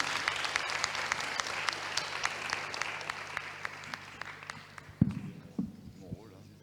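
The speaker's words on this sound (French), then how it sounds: "donc on va vous applaudir" An audience at a university student presentation in Montpellier claps steadily in a room for several seconds, then the applause thins out as a person speaks and moves nearby.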